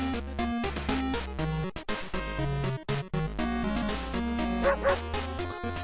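Cartoonish dogs bark and yip repeatedly over a looping chiptune-style melody at the dog shop in the horror video game World of Horror, the barks loud and punchy against the music.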